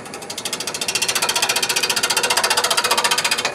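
A wood lathe spins a four-sided wooden jar blank, giving a loud, rapid rhythmic chatter that quickens and builds as the lathe comes up to speed, with no talk.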